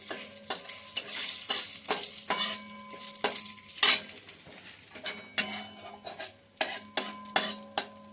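Moong dal frying and being stirred in a pan with a little oil, a steady sizzle broken by repeated scraping and clinking strokes of a metal spoon against the pan, close and fairly loud, with no talk.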